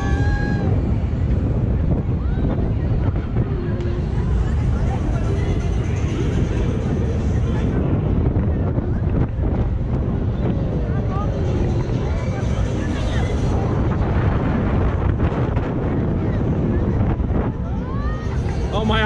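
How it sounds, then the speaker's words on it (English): At a fair in Oxford, strong wind roars and buffets the microphone continuously, a loud, rough rumble filling the whole stretch with no pauses. "Whoa, it is windy."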